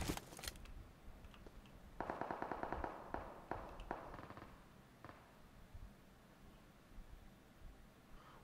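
Rapid bursts of automatic gunfire from the PUBG Mobile shooter game, with a dense rattling volley and a few sharper single shots trailing off at moderate loudness, and no talking.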